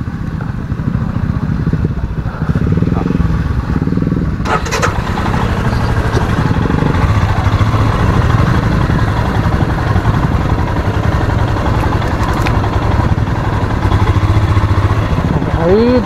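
A Royal Enfield Himalayan motorcycle engine runs loud and close while off-roading near an overflowing dam, with a steady rumble and clatter as it idles and revs, and voices talk over it.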